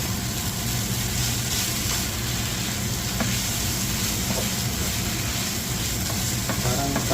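Pancit canton noodles with vegetables stirred in a pan, a loud steady frying hiss throughout with occasional spatula scrapes and light clinks near the end.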